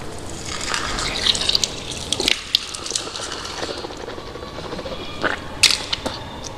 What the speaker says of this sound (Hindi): दूसरी सुन्नत अब है कुल्ली करना।